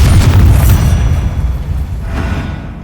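A Bombarda spell detonates in Hogwarts Legacy, a loud deep boom with rumbling low-end blast that sustains and decays over a few seconds, with a second swell of debris noise near the end.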